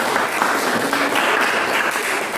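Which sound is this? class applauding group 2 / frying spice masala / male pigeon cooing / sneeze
class applauding group 2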